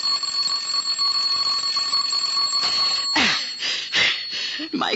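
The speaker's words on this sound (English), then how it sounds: "I said the doorbell. What about it? It's ringing." An electric doorbell rings continuously for several seconds in a home setting, a steady buzzing ring that keeps going while people talk over it near the end.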